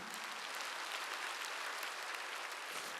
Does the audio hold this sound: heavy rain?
no